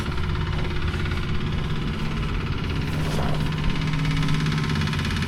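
A compressor on a London Underground Piccadilly Line train drones on continuously with a low, throbbing hum and a faint knocking pulse, sounding unhealthy. It stays steady and fairly loud throughout, with no talking.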